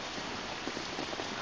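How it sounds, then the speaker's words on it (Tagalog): Steady rain falls during a typhoon in Nangka, Marikina, a faint, dense, even hiss with soft patter and no other clear sounds. "Sana itong ulan tumigil na."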